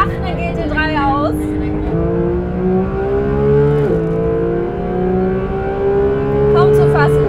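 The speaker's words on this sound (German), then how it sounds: "Das Schöne ist, dass der Wagen einfach immer noch bis 9000 dreht." A Porsche 992 GT3 engine, which revs to 9000 rpm, screams on track as heard from inside the car: loud, rising howls broken by several quick gear-change dips, then climbing again steadily.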